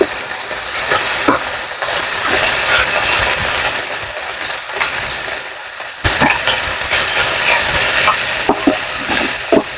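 Pork frying in a pan for humba-adobo, with steady loud sizzling and spattering and sharp pops scattered throughout.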